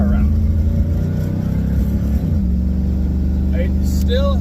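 A Pontiac Firebird with a rich-running carburetor and freshly fixed fuel leaks drives along, its engine droning loud and steady from inside the car, pitch shifting slightly mid-way, with faint chirps near the end.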